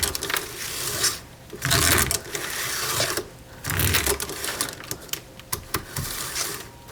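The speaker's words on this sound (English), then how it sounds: "put it on the bar like this, rotate the chain around. It's got to move freely like this." A chainsaw chain is pulled by hand around the bar, producing bursts of rapid clicking and ratcheting as the links slide, separated by short pauses, close and alone.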